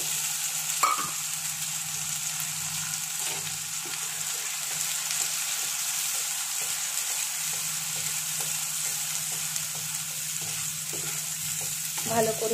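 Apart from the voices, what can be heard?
onion paste frying in a pan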